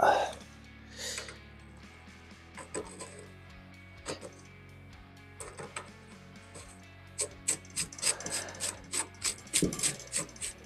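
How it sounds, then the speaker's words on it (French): A bicycle fork is tightened during a boys-to-girls bike conversion: scattered clicks and ratcheting scrapes from a tool, sparse at first, then quicker bursts of clicking toward the end. "Et on peut serrer la fourche."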